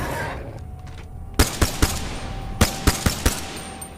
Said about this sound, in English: I hit the railing every shot there.